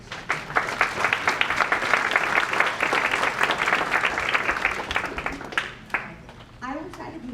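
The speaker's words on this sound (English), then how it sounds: "So please give them a round of applause too." A school audience at a curriculum night breaks into sustained applause for the teachers, dense clapping that tapers off near the end as a voice begins to speak.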